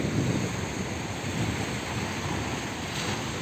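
Surf rolling onto the sandy beach at Camp Caesar, a steady, dense wash of waves mixed with wind buffeting the microphone, continuous and fairly loud with no voices.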